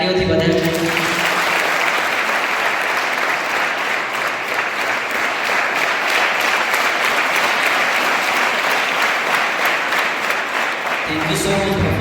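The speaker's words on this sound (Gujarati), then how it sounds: "ચાલો આપણે એમને તાળીઓથી વધાવીએ." A school program audience applauds a student called to the stage, a steady, dense burst of clapping that holds for most of the stretch before tapering at the end.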